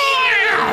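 A single close, loud cat meow, drawn out and falling slightly in pitch, lasting under a second.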